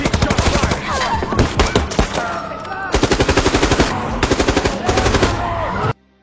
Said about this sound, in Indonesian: Kontak senjata dimulai.